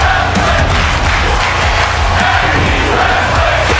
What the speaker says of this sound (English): Crowd going crazy chanting tag team wrestling